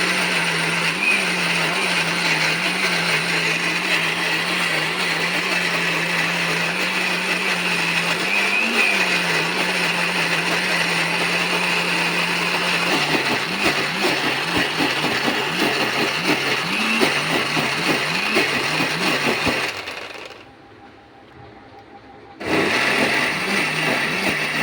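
Electric mixer grinding green chutney with sugar and a piece of ice, a loud steady whirring motor drone that runs continuously, shifts pitch as the blend loosens, then cuts off briefly before restarting.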